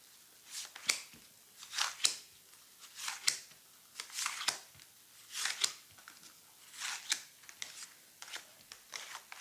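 Cards for a tarot reading shuffled and handled over about nine seconds, giving repeated soft riffling and snapping bursts in an uneven rhythm, close and fairly quiet with no talk.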